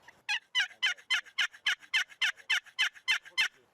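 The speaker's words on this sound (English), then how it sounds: "But listen to the sound when you go to this Razor's Edge or this aluminum side." A rapid run of about thirteen raspy, slightly gravelly turkey yelps from a box call with an aluminum edge, steady rhythm, loud and close.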